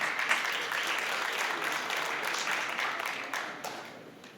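Spectators at an international 9-ball pool final give a short round of applause that swells and then fades over a few seconds, with a commentator's voice faintly beneath.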